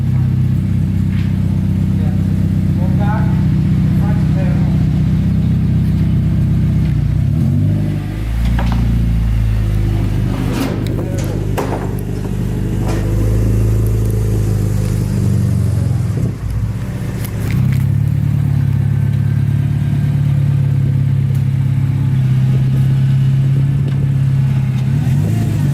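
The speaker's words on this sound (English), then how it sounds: "His exhaust is fully on now." Acura RSX with a Skunk2 Alpha header and Megapower RR 3-inch exhaust, a loud deep droning idle broken by throttle revs in the middle, close by, with people talking over it.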